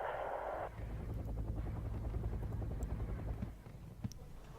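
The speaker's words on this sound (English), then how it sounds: "Got a load of helicopters." A rapid, steady thumping of helicopter rotors hums beneath game audio, a continuous low chop that fades slightly near the end.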